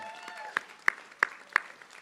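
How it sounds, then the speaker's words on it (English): Scattered hand claps at a graduation ceremony, four distinct sharp claps spaced evenly over faint room murmur, too sparse to swell into full applause. "Could you guys please give them a round of applause for helping you through this?"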